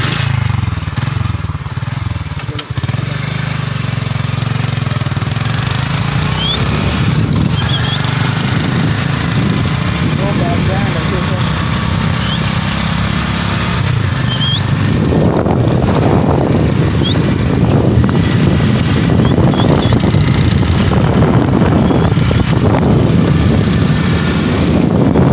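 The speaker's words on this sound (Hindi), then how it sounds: "चलेगी बाइक स्टार्ट करो बाइक।" A motorbike engine runs outdoors with a steady low drone that rises into revving bursts in the second half, continuous and fairly loud throughout.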